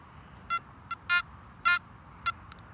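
A Makro Gold Kruzer metal detector sounds short electronic signal tones while sweeping a field, six brief beeps of varying length in an irregular rhythm over a faint low background hum.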